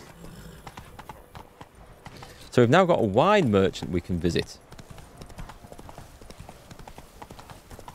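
Rhythmic horse hooves clip-clop steadily in the Toussaint region of the video game The Witcher 3: Wild Hunt while someone talks over them; a louder whinny-like tonal burst rises briefly in the middle.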